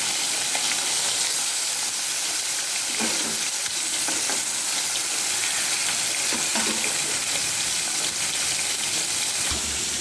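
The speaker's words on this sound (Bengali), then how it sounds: "মাছগুলো অনেকটা বেশি পরিমাণে আছে, ওই জন্য দুবারে আমি ভাজবো।" Katla fish pieces fry in hot oil with a dense, steady sizzle and crackle, loud and constant for the whole stretch, with faint stirring touches and no talking.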